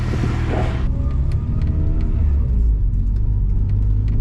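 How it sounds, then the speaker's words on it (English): A turbocharged Acura Integra engine idles with a steady low rumble and faint whir, loud and close, after a brief louder burst at the start. "I'm gonna let this car warm up real quick"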